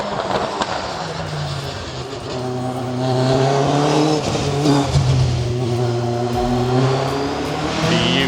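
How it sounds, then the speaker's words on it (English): A car drives past close by, its engine rising to a louder swell midway and holding as the tyres hiss along the road, with no talk over it. "just going to wait for this car to go past"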